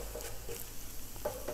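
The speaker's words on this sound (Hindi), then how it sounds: "थोड़ा सा धनिया पाउडर और थोड़ा नमक से हमें अच्छे से भूनना है, ताकि मसालों का जो कच्चापन है वो ना आए।" Spices frying with coriander powder and salt in a pan give a soft, steady sizzle, with faint scraping stirs now and then and no voices.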